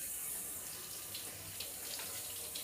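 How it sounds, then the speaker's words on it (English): A tap runs steadily into a sink during handwashing with soap and water, a continuous close hiss of flowing water with small splashes and shifts as hands move under the stream. "So wash your hands with soap and water."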